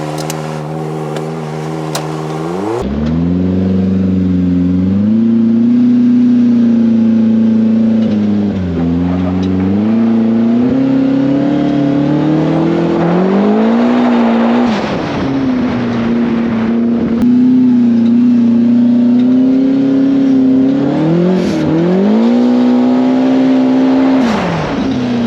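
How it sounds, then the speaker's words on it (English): A Polaris RZR Pro R side-by-side fitted with a LaRue turbo kit driving a dirt road. Its loud engine drones close by, revving up and easing off in repeated swells. "it looks like we've got a little bit of dirt road over here that we can at least do a minor rip on"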